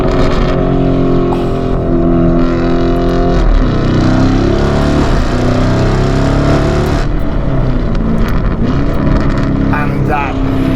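A loud, continuous engine roar fills the whole stretch, from either a blood-red forged-carbon widebody Ferrari F8 or a widebody Lamborghini Urus with a 4-litre twin-turbo V8. The pitch swells and shifts as the engine is pushed hard.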